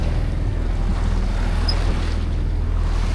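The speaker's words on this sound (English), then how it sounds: "yeah, the swells are already getting big. There's a big one." Ocean swells and waves wash against a sailboat at sea off Hawaii between Kona and Hilo, a deep continuous rumble mixed with buffeting wind noise on the microphone.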